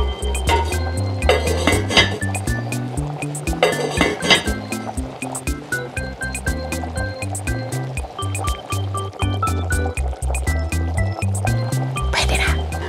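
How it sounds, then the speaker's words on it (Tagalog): Pansit noodles dropped into a pot of boiling water while cooking a Filipino-style bibimbap noodle dish, giving steady liquid bubbling with repeated clinks and splashes throughout, fairly close and continuous. "Ilagay natin yung pansit."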